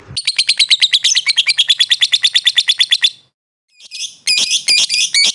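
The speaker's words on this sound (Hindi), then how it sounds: "कुछ 4-5 सेकंड आप सुने लव बर्ड की आवाज़ होती" Lovebirds chirping: a rapid, shrill run of about two dozen sharp chirps, a brief pause, then more squeaky, scratchy calls, close and loud with no talk.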